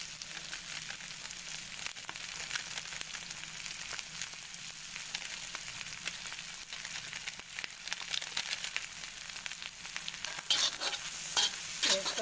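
Garam masala and chilli frying in a pan for egg masala noodles, giving a continuous bright crackling sizzle that stays even and close, growing slightly louder near the end.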